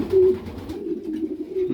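A pigeon coos close by in a loft, a low, throaty rolling call that swells at the start and continues in softer, wavering pulses.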